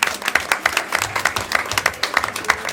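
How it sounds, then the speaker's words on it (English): Applause from the audience at a town council meeting, a modest group clapping with distinct, uneven individual claps, fairly close and without talk. "Could everyone give a round of applause to Mr. Costa and Associates?"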